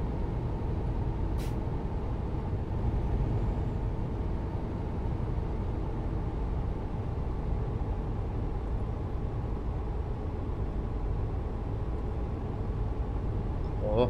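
A steady low engine drone from a Volvo Comil Campione HD 6x2 bus in Euro Truck Simulator 2 runs throughout, with a short hiss near the start like an air brake releasing.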